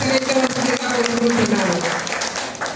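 Crowd applause at a party constituency meeting in Palakollu, a dense steady wash of many hands clapping throughout, mixed with a loud voice over a public address system.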